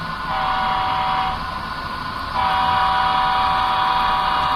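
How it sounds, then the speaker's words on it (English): An HO scale model train runs on a home layout, giving a steady mechanical whir and hum that grows louder partway through, with a thin sustained whine on top. "Let's see if this full train stays coupled."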